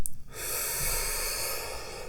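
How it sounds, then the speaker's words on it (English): A single deep, close inhale during a guided breathing exercise, a soft airy rush that begins after a brief click and holds steadily to the end. "Let's do a little more breathing with me."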